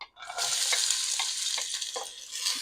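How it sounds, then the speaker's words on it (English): Vegetables hit hot olive oil in a pot for ham and bean soup, a bright continuous sizzle with brief stirring clatters, close and loud, with no talking. "And I'm going to saute all these veggies together"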